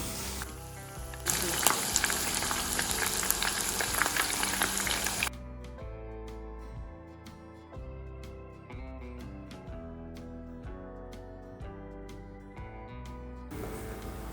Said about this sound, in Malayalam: ഇതൊന്ന് ഡീപ്പ് ഫ്രൈ ചെയ്തെടുക്കണം. ഇങ്ങനെ ചിക്കൻ ഇട്ട് കൊടുക്കുന്ന ടൈമിൽ വിട്ട് ഇട്ട് കൊടുക്കുക.